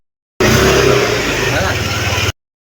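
A motorcycle engine revs hard and close for about two seconds, climbing in pitch and then settling into a rough, throbbing idle before it cuts off abruptly.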